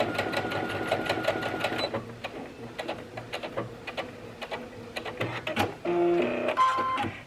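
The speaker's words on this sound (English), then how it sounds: "I want to do a second row of stitching just as close to that last row as possible" A home sewing machine runs in quick rhythmic bursts, stitching a second row close to the first on a shirt sleeve edge over elastic, stopping and restarting several times up close.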